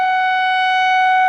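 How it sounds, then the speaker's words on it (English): Tornado warning sirens wailing during a storm at a house, a loud steady sustained tone with strong harmonics, holding level throughout with no talking. "we got tornado, sirens"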